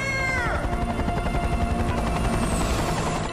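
Helicopter rotor thrum from a Left 4 Dead video game trailer, a steady loud throbbing drone with mechanical whine, mixed with game sound effects and no talk.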